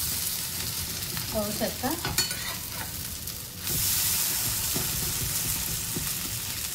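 Semolina bread roasting in a hot pan to a crisp finish, a steady close sizzle with stirring and scraping sounds, louder after the bread is flipped, with brief speech over it.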